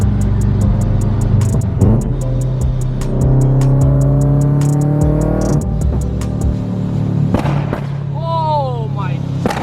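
Turbocharged Scion FR-S engine pulling hard under acceleration, rising harmonics sweeping upward as revs climb, loud and close from inside the car, with a rapid ticking pattern and brief talk near the end.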